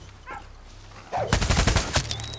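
In Far Cry 6, a dog barks amid gunfire: a faint bark or two, then a burst of rapid, loud gunshots in quick succession, ringing out close by.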